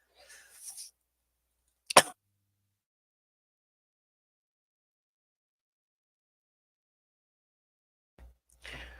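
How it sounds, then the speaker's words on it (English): A single sharp cough bursts out at close range amid near silence, with faint breathy sounds before and after. "I did not mean to cough in your ear."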